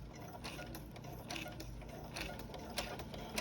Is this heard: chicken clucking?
no